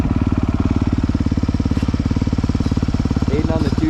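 A 2023 Honda CRF250 dirt bike engine idling and revving steadily up close, a rapid, even thumping putter with a slight rise near the end.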